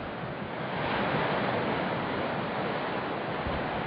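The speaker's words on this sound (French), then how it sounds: "La tempête qui m'a accueilli se renforce" Strong winter storm wind of about 100 km/h on Islay roars steadily over heavy surf, a dense continuous rush of storm noise that swells slightly and never lets up.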